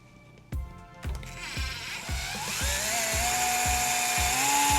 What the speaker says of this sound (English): I'm going to use a drill bit that's basically the same diameter of my headphone jack, and I'm just going to drill a hole through the toy.